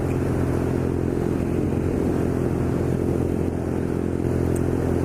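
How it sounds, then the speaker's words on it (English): A BMW R nine T Scrambler motorcycle engine drones steadily while being ridden, a continuous loud hum mixed with wind rush and no noticeable changes in pace. "we're enjoying riding this bike"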